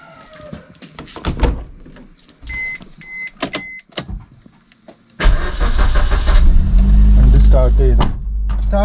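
A car engine cranks and fires up in a driving-lesson setting, preceded by door and cabin clatter, then settles into a loud steady idle rumble that continues to the end.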